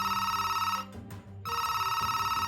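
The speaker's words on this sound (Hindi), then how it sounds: "फेनर की मेज पर पड़ा फोन घनघना उठा।" A telephone bell rings loudly nearby in two long bursts separated by a brief pause.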